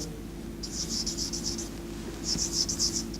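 Handwriting strokes on paper in bursts of short scratching marks, one run and then a second after a pause, faint and close over a low room hum.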